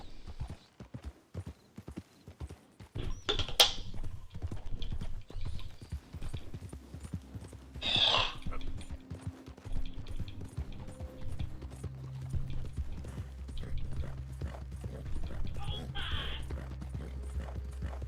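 Steady clip-clopping of horse hooves on a hard surface in Red Dead Redemption 2, a quick repeating rhythm throughout, with a low rumble and brief whooshing noises in the background.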